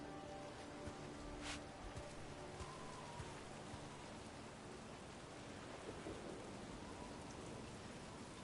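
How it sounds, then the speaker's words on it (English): Steady rain with rumbling thunder in a storm in Dragon Age: The Veilguard, a dense continuous downpour with low rolls and a sharp crack early on, no voices. "Do not stay out too long in the storm."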